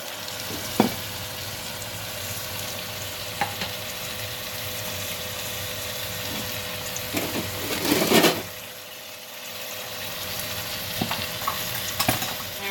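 Steak sizzling and frying in a pan while Creole steak, shrimp and peppers are cooked, a steady close hiss with occasional sharper crackles and a brief louder burst of spitting fat.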